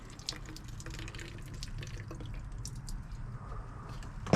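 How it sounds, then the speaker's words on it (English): Water poured over potted prayer plants, a steady splashing trickle running for several seconds without pause, close and moderately loud with no voices. "Now, throw a little water on them."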